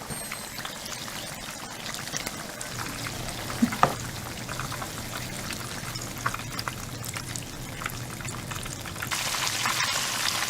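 Steady crackling sizzle of eggplant frying in hot oil, a continuous dense spatter with a brief louder pop partway through, no voices.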